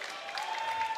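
A crowd at a World Armwrestling League match cheers and claps, a dense, moderately loud wash of applause with a sustained tone running through it.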